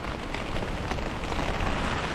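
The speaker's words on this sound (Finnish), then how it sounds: "Nyt lähti taas kunnon sade." Heavy rain pours down during a storm with 20 m/s winds, heard from inside a shelter with a stove, a dense, steady roar of drops drumming on a surface, loud and continuous throughout.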